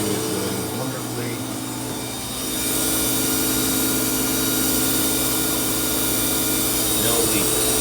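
A Whirlpool Duet front-load washer runs its rinse and spin cycle after a bellow boot seal replacement, giving a steady, loud mechanical hum and whir that swells slightly partway through and holds evenly to the end.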